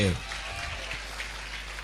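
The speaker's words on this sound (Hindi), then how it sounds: "जोरदार ताली हो जाए मारू के लिए" Brief applause for a child's dance on stage, a short spell of crowd clapping over a low electrical hum, with a voice heard at the very start.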